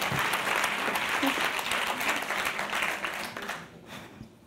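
Audience applause at a plenary session of a patrons' forum, dense close clapping from a large crowd that stays strong at first, then thins and fades away near the end.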